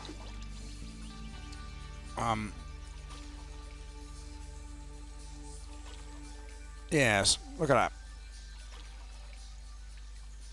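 In the Stardew Valley video game, river water laps gently against the shore, a faint, steady watery patter in the background, while a person talks briefly over it.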